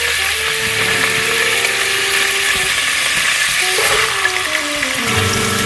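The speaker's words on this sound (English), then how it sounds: "we're going to saute the onions for some time" Onions sauté in hot olive oil in a pan for jambalaya, producing a continuous close sizzle with occasional scraping and stirring knocks underneath.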